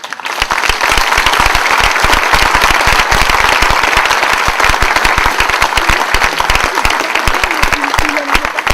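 A large church audience gives sustained, dense applause for the parish priests in Muraz Collombey, loud and steady throughout with sharp claps and a few voices mixed in.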